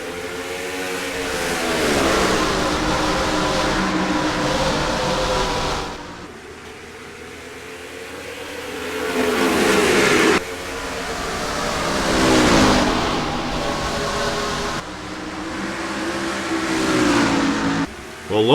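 Stock cars race at Richmond Raceway in the NR2003 racing game, their engines droning and revving loudly in long sustained surges that rise and fall as the pack accelerates around the track.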